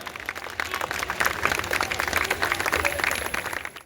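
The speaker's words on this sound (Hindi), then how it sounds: "जोरदार तालियों से इनका अभिनंदन करें" An audience at a school annual day dance performance applauding in a dense, continuous patter of clapping, moderately loud and sustained throughout with a faint voice underneath.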